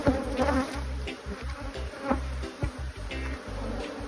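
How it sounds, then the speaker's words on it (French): A dense, steady buzzing of many honey bees swarming close around a hive, with wingbeat hum rising and falling, plus occasional soft knocks and rustling. "je suis atomisé d'abeilles de partout"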